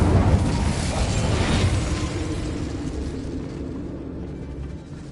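Incendio fire spell cast in Hogwarts Legacy, a loud whooshing burst of flame that erupts at once and then trails off into a steady roaring rumble.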